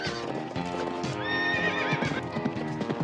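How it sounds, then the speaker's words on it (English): Horses gallop across snow on the frozen grasslands of Inner Mongolia, China, during a horse race: loud, close, rapid drumming hoofbeats with sharp neighs and whinnies ringing over them. "hooves thunder across the snow as the Super League rides on"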